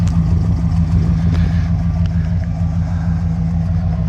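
A 1965 Chevrolet Caprice with a 396 big-block V8 and an added dual exhaust, idling with a loud, steady, deep rumble close to the tailpipes.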